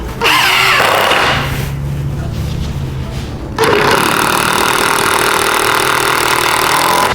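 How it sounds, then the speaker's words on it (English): A loud drill whirs in two bursts separated by a brief drop in speed, driving screws into a kitchen cabinet, the motor revving steadily up close. "Now I'm ready to set the screws."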